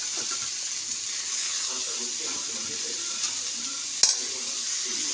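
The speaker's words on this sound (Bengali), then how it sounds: "নুনটা দিয়ে এবার ভালো করে কষে নিতে হবে এটাকে।" Curry masala with salt and tomato stir-frying in a pan gives off a steady, even sizzle, broken by soft stirring scrapes and one sharp utensil clink near the end.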